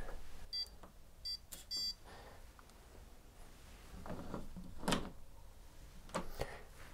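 A Welock Touch 6 fingerprint smart lock cylinder on a door gives short electronic beeps, a few faint chirps early on and then a louder blip, with small clicks of the lock between them in a quiet room.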